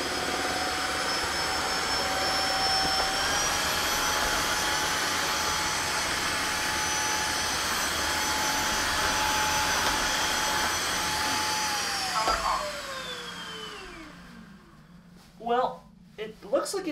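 A Tineco Floor One S3 cordless hard-floor vacuum mop runs on its max setting with a loud, steady motor whine, then spins down near the end, followed by brief clatter and a voice.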